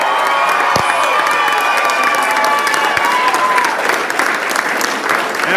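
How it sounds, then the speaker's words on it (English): Crowd applause and cheering at a Victorian election victory speech, a dense, steady wash of clapping and shouts from a large audience, loud and continuous throughout. "keep the applause coming"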